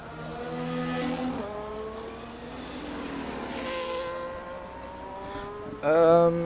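A Mercedes race car pulls out of the pit lane at Silverstone, its engine note rising through a few gear changes at a distance, then a sudden louder, closer whine near the end.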